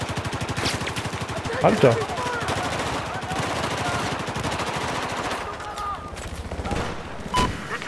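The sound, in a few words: gunfire in video game Battlefield 4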